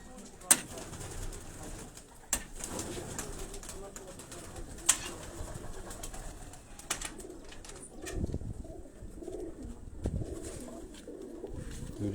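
Pigeons coo softly amid faint background noise, with a few sharp clicks and brief flutters scattered through, fairly quiet and close.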